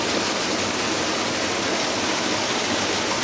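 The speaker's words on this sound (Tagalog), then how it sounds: "Ito yung ilalim ng falls." Water crashes down at the base of Malaking Tatiao Falls in Silang, Cavite, a loud unbroken roar of white noise that stays constant throughout, close and with no voices over it.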